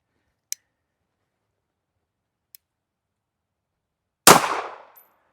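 A Beretta Cheetah 80X pistol fires a single .380 ACP round loaded with a 90 grain Speer Gold Dot bullet. The shot is one sharp, loud crack with a short decaying tail, preceded by two faint clicks in otherwise quiet surroundings.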